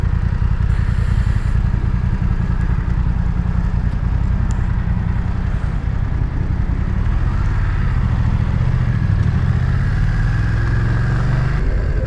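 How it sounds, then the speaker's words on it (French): BMW F 900 R twin-cylinder motorcycle engine on its stock exhaust, a loud steady rumble close by that rises in pitch as it accelerates near the end, with wind noise and no talk. "pour un petit bicylindre comme ça, échappement d'origine, même le bruit est sympa"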